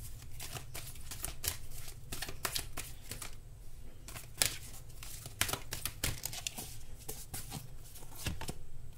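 Tarot cards are handled and shuffled close by, making quick papery riffles, slides and soft flicks in uneven bursts at a low level, with no talking.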